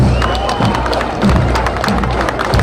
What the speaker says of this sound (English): let's have a big round of applause for the police pipes and drums